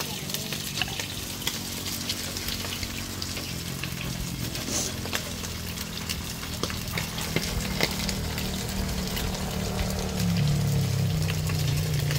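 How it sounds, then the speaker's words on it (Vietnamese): Rat meat frying in a pan in a home kitchen, giving a steady sizzle with faint scraping as it cooks, joined by a low hum near the end. "Chuột chiên chín rồi cả nhà."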